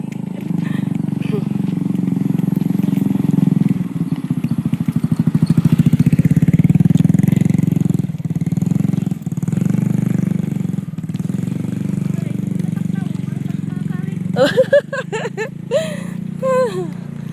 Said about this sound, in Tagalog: May motor, may motor.